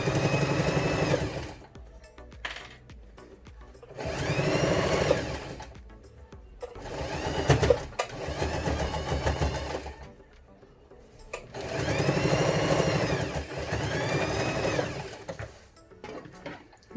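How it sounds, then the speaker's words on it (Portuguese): A sewing machine stitches a fabric school pencil case in loud close bursts of rapid mechanical whirring, each a couple of seconds long, separated by short quiet pauses with no talking. "E agora aqui eu vou fazer uma costura com o pezinho de máquina, já que tá tudo aqui alinhado já."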